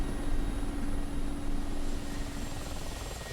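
The steady, dense rotor and turbine roar of a Mi-24P Hind helicopter in the DCS flight simulator, loud and constant from an outside view, with a faint high whine above it.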